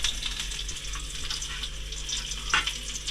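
Small shallots fry in hot oil just after mustard seeds have finished popping, giving a steady, close sizzle with a brief louder crackle burst near the end.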